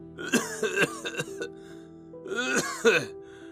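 A man coughs and clears his throat in a few rough bursts, then pauses before another cluster of harsh coughs, close to the listener.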